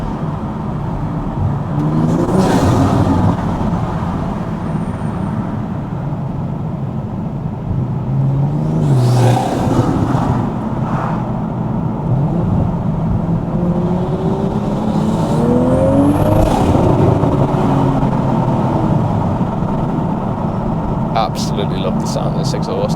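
A GR Supra fitted with a titanium exhaust and an ArmaSpeed intake revs and pulls through the gears on a night drive, loud and close, with engine surges rising and falling and someone talking over it.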